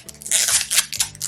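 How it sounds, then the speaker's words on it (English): Packing tape pulled off the roll and pressed over a seam on a packed item, several quick loud ripping strips in close succession. "So you tape that place as well."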